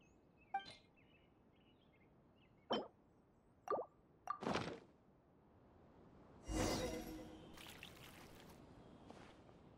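Water is poured in a Genshin Impact cutscene: several separate plops and drips, then a longer splashing pour that fades into a soft trickle, with no speech.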